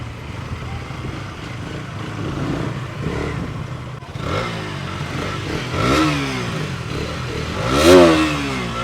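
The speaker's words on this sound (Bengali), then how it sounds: "আমি চালাচ্ছি 250 সেগমেন্টের বাইক" A 250 cc class motorcycle ridden alongside a 200 cc KTM Duke, engine note rising and falling through several revving surges that build to a louder burst near the end, with wind and road noise underneath.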